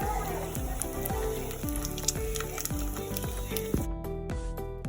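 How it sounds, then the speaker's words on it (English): Homemade taco tortilla frying in hot oil in a pan gives a steady close sizzle with a soft crackle, broken by a string of short, repeated clatters from the cooking, and no one speaks. "you're going to put your tortilla in there, and you're going to listen for the sizzle."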